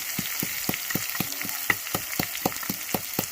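Something frying red in a hot pan for a potato and duck egg curry, with a steady sizzle broken by regular soft scraping strokes of stirring, about one each third of a second, close and moderately loud.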